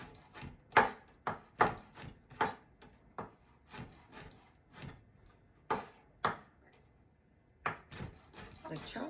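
A knife chops potatoes into rings on a board for a red potato salad, making a series of sharp, close cuts in an uneven rhythm, about a dozen strokes with short pauses between them.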